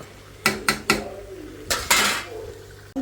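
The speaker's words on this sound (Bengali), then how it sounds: "একটু ঝোল রাখবো তো ঢাইকা দিই কষানো হোক" A metal lid is set over a pot of beef cooking with papaya, giving three quick clanks and then two more knocks and a scrape, close and sharp, with no talking.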